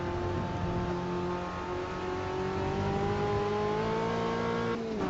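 A race car lapping a circuit in the Automobilista 2 racing game, its engine holding a steady high drone with gears shifting along the way, plus a brief squeal-like blip near the end.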